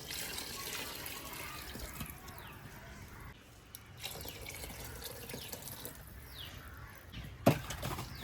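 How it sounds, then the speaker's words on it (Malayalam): Water poured into a pot of mushroom biryani being cooked, heard as a steady tap-like rush of liquid throughout, with crows cawing in the background and a sharp clank near the end. "വെള്ളം ഒഴിക്കുക, വെള്ളം ഒഴിക്കേണ്ടതാണ്."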